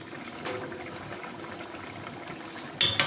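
A pot of olla podrida stew bubbles at a steady simmer, soft continuous burbling close by, ending with a brief louder splash or clatter.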